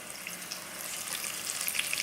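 Wild turkey pieces fry in about an inch of avocado oil in a pan, giving a steady, fairly quiet sizzle with crackling pops that grows slightly busier toward the end, with no talk.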